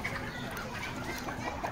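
Free-ranging poultry hens cluck in a steady, continuous murmur as they gather to feed near guinea fowl, a busy farmyard chatter with no talk over it.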